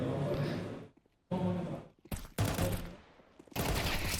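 Bursts of rapid gunfire from a competitive shooter video game match, loud and dense, broken by short silent gaps, with an excited commentator talking over the action.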